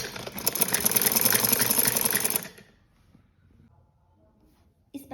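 A sewing machine stitches a sleeve onto a frock in a loud, steady, fast run of needle clatter for a couple of seconds, then stops, leaving near silence before a brief knock at the end.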